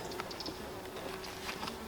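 Honey bees buzz steadily around a hive frame, a faint continuous hum with scattered individual bees flying close past, and no one talking.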